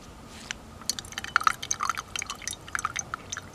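Tea being poured, heard as a quick run of small, bright drips and splashes of liquid falling into a cup, close and fairly quiet, with no talking.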